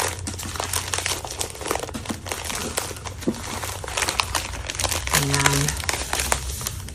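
Wrapping paper crinkles and rustles continuously as sheets are rolled and folded around a tulip bouquet, close and steady, with a brief spoken word partway through.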